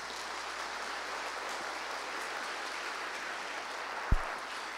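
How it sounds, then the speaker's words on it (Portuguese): Applause from an audience greeting Dave Raggett as he takes the stage at a Web.br 2016 conference session on the Internet of Things; steady, wide, even clapping with a single low thump near the end. "Palmas para o David Raggett, por favor."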